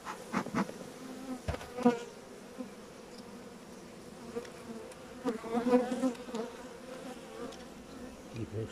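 Honeybees buzz around an opened hive in early spring, a dense, close, continuous hum with individual bees swelling louder as they pass near, along with a few scattered knocks.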